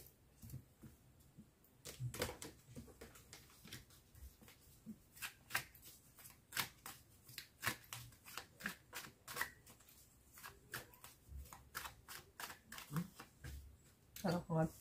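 Oracle cards are shuffled by hand in quick, repeated papery riffles and taps that carry on through the whole stretch, close and crisp, with some quiet talking at times.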